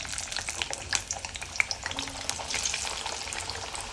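Thin carrot slices deep fry in hot coconut-style cooking oil, making a busy, close sizzle full of rapid crackles and pops that rises slightly toward the end, with no one talking.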